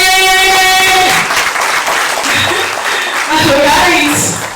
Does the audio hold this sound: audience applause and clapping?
yes